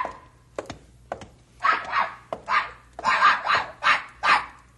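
A dog barks in a series of about eight sharp, close barks with a few soft thumps before them, loud and rhythmic, with no talk.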